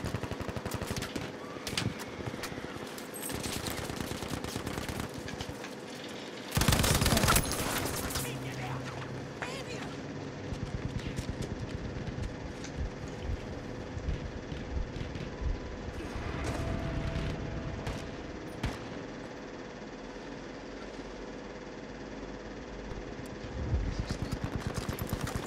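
Gunfire crackles through a Battlefield V Breakthrough match on the Marita map, with scattered shots and rattling bursts, one loud blast near the middle, and distant battlefield din throughout.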